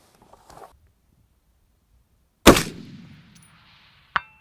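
A single sharp rifle shot from a NEMO Arms XO Carbon Rifle cracks out loud and near and then rolls away in a long decaying echo, followed by a faint distant impact crack.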